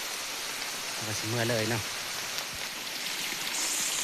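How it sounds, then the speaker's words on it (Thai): Steady rain falls in a forest, a broad continuous hiss that stays loud and even throughout while someone speaks briefly over it. "เอาฝนตกตลอดเลย"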